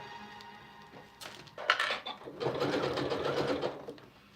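A sewing machine stitches a clear vinyl storage bag, starting with a few short clicks and then settling into a steady, quiet whirring run of a couple of seconds that ends abruptly.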